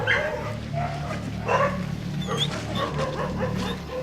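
Several rescue dogs bark and yip intermittently as a group of 61 arrives by truck at a dog rescue shelter, against a steady low rumble of idling engines and background bustle.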